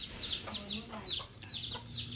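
Farmyard chickens cluck in a steady string of short, repeated calls at moderate distance, with a faint low hum underneath.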